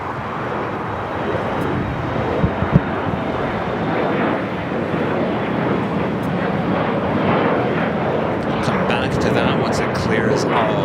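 Airliner taking off from runway 25 right at Los Angeles International Airport, a loud steady broadband engine roar that holds for the whole stretch, with wind noise on the microphone and radio talk heard faintly beneath.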